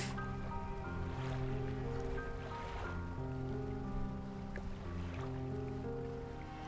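Boat chugging through water in the fishing game Dredge, a steady engine drone with layered tones and a continuous wash of splashing water, even and close throughout with no talk.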